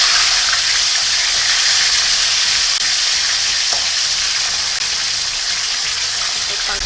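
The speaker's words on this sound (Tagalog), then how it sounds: "Kapag mainit na yung mantika, ilalagay ko na tong ating tilapia." Tilapia sizzles loudly in hot oil, a dense, steady crackling fry close by with no one talking.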